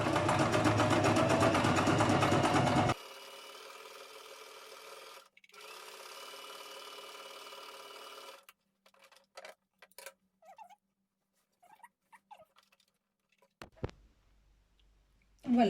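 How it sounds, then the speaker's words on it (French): A domestic sewing machine runs a zigzag stitch on fabric, giving a loud, fast mechanical whir for the first few seconds, then quieter running and sparse clicks and taps as it stops. "Et je passe au point de zigzag"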